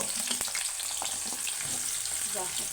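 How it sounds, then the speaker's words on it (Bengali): Onion paste sizzles in hot oil for a fish dish, a steady close frying hiss with occasional stirring scrapes. "তেল গরম হয়ে গেছে এখন পেঁয়াজ গোলা দিয়ে দিল"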